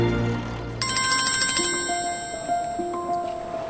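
A phone ringtone sounds for an incoming call, a steady electronic melody of bright bell-like tones playing continuously and close, with no talking over it.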